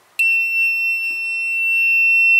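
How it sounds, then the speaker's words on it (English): A sudden high-pitched electronic buzzer, switched on by a DIYmall 4-channel Bluetooth relay module, holds a steady, piercing tone, close and loud, with a faint click partway through. "I will press this relay 4 button and it will activate the buzzer"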